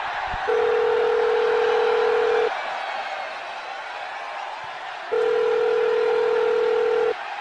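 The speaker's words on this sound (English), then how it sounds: "we might have to ring Barry the bookie" A telephone call is placed: two long steady ringing tones sound about two seconds each, separated by a short quiet gap, clear and close, with no talk.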